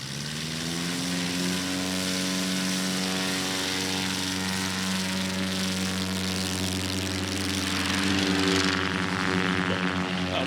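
A STOL airplane's propeller engine drones steadily at a STOL competition, with a loud sustained harmonic buzz that holds for the whole stretch and swells slightly near the end, with no talk over it.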